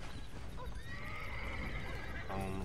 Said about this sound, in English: Smelly horses, man.